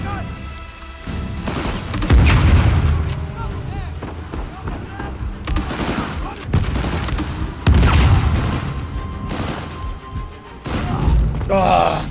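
Gunfire and heavy booms from an intense firefight in the video game Uncharted 4, loud and sustained with repeated impacts, continuing throughout with someone talking over it.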